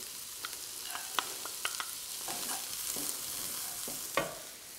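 Diced onion and celery fry in a hot pan, giving a steady close sizzle with scattered scraping and stirring taps from a utensil on the pan.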